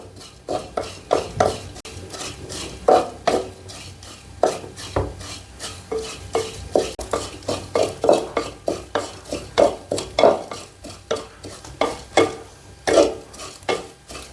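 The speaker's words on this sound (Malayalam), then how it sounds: "ഇനി ഈ ചെമ്മീൻ പൊടി കുറച്ചൊന്ന് കളർ മാറുന്ന വരെ നമുക്ക് ഇതിങ്ങനെ വറുത്ത് കൊടുക്കണം" Prawn powder dry-roasting in a pan while a spoon stirs it steadily, making repeated scraping, rasping strokes in an uneven rhythm, close and fairly clear, with no talking.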